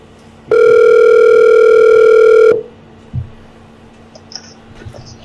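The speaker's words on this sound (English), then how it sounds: "I'm going to give him a call right now" A telephone dial tone hums loudly and steadily for about two seconds as a call is placed, then cuts off, followed by a brief click and quiet room noise.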